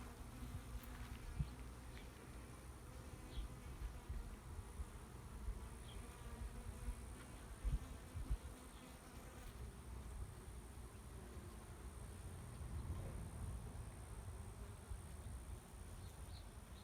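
Honey bees hum faintly and steadily around an opened beehive during an inspection, a continuous low drone with no talk.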